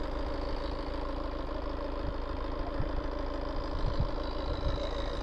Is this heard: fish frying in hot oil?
no